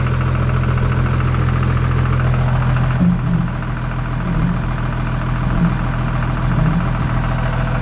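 A Kenworth truck engine cranks without starting, a loud steady mechanical drone with faint rhythmic pulses through the second half of the clip, and no voices.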